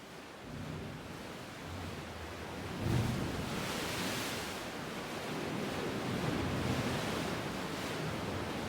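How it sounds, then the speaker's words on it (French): Ocean waves crash onto rocks along the shore, a steady rushing surf with a swelling break partway through, moderately distant and mixed with some wind, with no voices. "Le spectacle des vagues si belles qui se jettent sur les roches et qui claquent."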